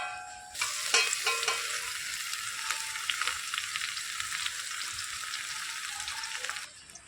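Ingredients drop into hot mustard oil for a jujube pickle and start frying, a bright steady sizzle with a few stirring clatters early on, close and continuous until it fades at the end.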